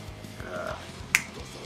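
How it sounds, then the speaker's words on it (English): A single sharp finger snap rings out once, crisp and close, against a low steady room background with no voices. "finger snap"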